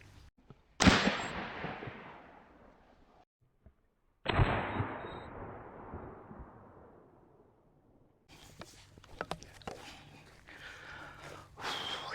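Two loud, sharp gunshots from a Rossi 1892 lever-action .44 Magnum rifle fired outdoors, each with a long decaying echo, spaced a few seconds apart, followed by quieter handling noise and distant sounds.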